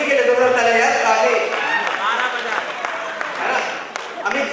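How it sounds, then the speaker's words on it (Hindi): A live audience at a club event at Paradip Refinery gives loud, sustained applause that slowly fades, with voices and cheering mixed in. "अमित जी के लिए जोरदार तालियां यार"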